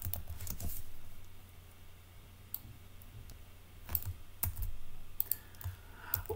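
Code is typed on a computer keyboard in uneven bursts of close, crisp key clicks separated by pauses, over a faint low hum.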